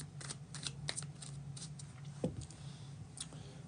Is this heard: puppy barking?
no